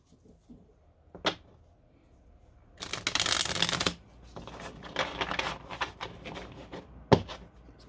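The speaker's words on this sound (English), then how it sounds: "although these are really hard to shuffle." Oracle cards being shuffled close by: a few soft taps, then a long riffling burst followed by scattered shuffling flicks and a sharp snap near the end.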